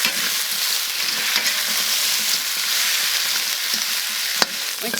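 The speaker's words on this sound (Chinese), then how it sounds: "要先炒一下，把它炒上色，炒入味，炒香。" Pig trotters stir-fried in a wok for a red-braised dish give a steady, close hiss of sizzling oil, with one sharp click near the end.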